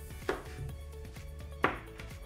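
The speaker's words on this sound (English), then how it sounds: "I will slice it in half, and then from there, I will slice it into equal parts." A knife cuts through an apple on a board in two sharp, close chops about a second apart, with quiet handling noise between.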